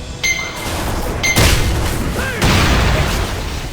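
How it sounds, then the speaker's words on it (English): In the Blade and Soul video game, a thrown bomb bursts at a cache with loud booming blasts, a sharp crack and a second heavy burst, over a game music and effects bed. "Grab a bomb, and lob it at that cache."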